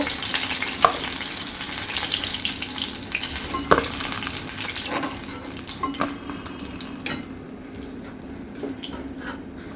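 Hot oil sizzles and crackles steadily as Bombay duck fish fritters fry, with occasional sharp pops and clinks, the hiss gradually settling quieter toward the end.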